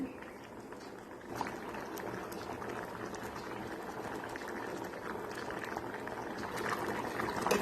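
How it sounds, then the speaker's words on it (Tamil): Tamil kulambu curry bubbles and simmers in a cooking pot, a continuous close hiss of popping and gurgling that swells slightly toward the end. "குழம்பு நல்லா கொதிச்சிருச்சு"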